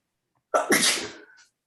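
A single sharp sneeze rings out close and loud in a quiet room during an acrylic painting lesson. A brief intake leads into the burst, which tails off quickly into silence.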